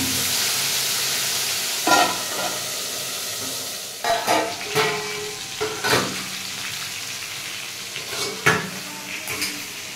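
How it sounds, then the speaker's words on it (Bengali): Whole fish with roe fry and bubble in oil under a covered pan, a steady sizzle broken by sharp pops and metallic clinks of the lid and utensils, close up with no talk. "এই যে ফুটছে, তেল ছিটাবে না, সেই জন্য ঢাকা দিয়ে দিয়ে মাছগুলোকে রান্না করে নিচ্ছি।"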